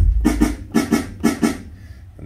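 A custom kick drum sample is played on an MPC Live II. It comes as punchy, booming hits in quick pairs, repeated three times in a steady groove, with a softer thump at the end.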